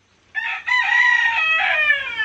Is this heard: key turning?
no